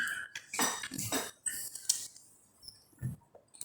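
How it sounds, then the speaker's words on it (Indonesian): Coffee cups and dishes clink as coffee is served, a few light, close taps and knocks of crockery spread through a quiet room with no one talking. "biar ada bunyinya kayak kopinya lagi datang lah, ada lagi kopinya."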